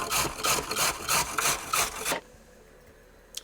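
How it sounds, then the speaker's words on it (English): Carrots rubbed against a grater for coleslaw, a close series of about eight rhythmic rasping strokes, then quiet with one small knock at the end. "Just a couple of carrots. Grate this in here."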